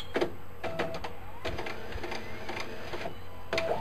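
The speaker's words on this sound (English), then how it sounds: "What is this? What's happening? Is it a printer? Or a fax machine?" An in-game printer or fax machine in Resident Evil 2 runs in a series of short mechanical whirs and clicks, rhythmic bursts separated by brief pauses, alone and fairly close.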